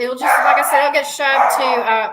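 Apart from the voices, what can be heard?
dogs barking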